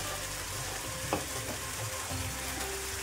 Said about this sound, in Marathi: भाजी थोडीशी परतून घ्यायची 1 मिनिटभर